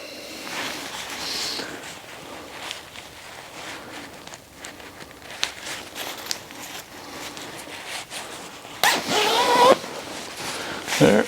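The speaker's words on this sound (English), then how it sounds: "You zip that up." Zipper pulled closed on a sleeping bag, a soft rasping run under quiet handling noise, ending in a louder brief zip near the end.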